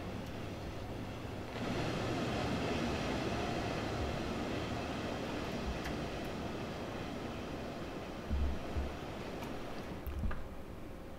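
An S-Bahn Dresden train of double-deck coaches with a class 218 locomotive passes in the Train Sim World 4 game, a steady loud rumble and roar that rises suddenly and holds, with a couple of brief low thumps near the end.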